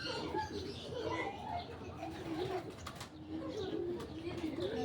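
Racing pigeons at their loft in San Fernando, Pampanga, coo softly in repeated low throaty calls over a murmur of background voices and light ambient noise.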